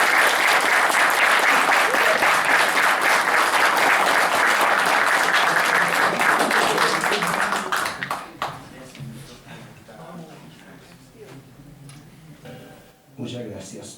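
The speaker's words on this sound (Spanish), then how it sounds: "un aplauso." An audience at a book presentation applauds in a loud, thick burst of clapping that lasts several seconds and then thins into scattered claps and murmuring as the room settles.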